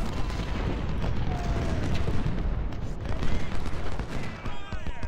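Artillery fire in the Ultimate General Civil War game at Antietam rolls on as a dense, continuous barrage of booms and crackling gunfire, loud and unbroken for several seconds with no one talking.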